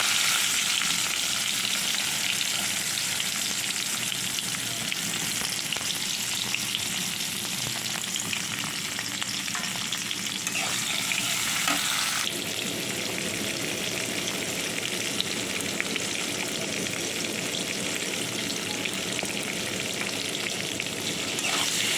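Oil sizzles and crackles steadily as brinjal fries in a pan, a continuous close-up hiss with a slight shift partway through.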